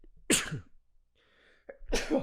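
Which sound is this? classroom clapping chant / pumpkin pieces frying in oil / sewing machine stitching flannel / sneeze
sneeze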